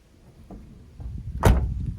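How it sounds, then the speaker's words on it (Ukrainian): A side door on a 2013 Opel Vivaro 2.0 passenger van shuts gently with one soft, brief thud, preceded by a faint click. "Дверки тихесенько закриваються."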